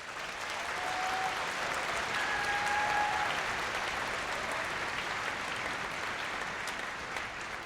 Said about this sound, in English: let's hear a little applause from our advanced musicians